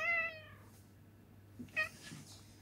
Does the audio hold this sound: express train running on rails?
no